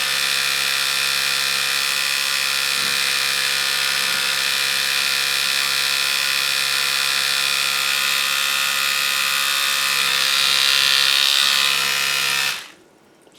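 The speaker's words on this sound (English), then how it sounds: "So you guys can see with the Vitality, it produces a lot of bubbles and you know it's making a lot of splashes." An Oral-B Vitality electric toothbrush buzzes while dunked in water, a loud steady high-pitched whine that swells slightly near the end, then cuts off abruptly.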